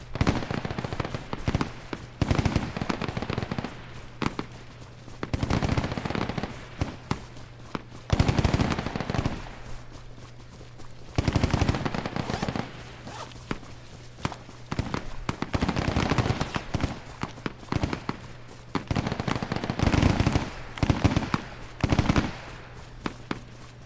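Gunfire in the military video game ARMA 3 during an infantry training session, with repeated rapid bursts of automatic fire and single shots coming in waves over about twenty seconds, loud and close.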